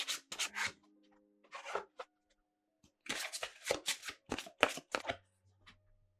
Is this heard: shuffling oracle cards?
yes